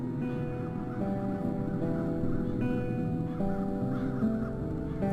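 Crows caw in the video game The Dark Eye: Chains of Satinav, harsh repeated calls layered over a dense, droning ambient game soundscape, with no speech.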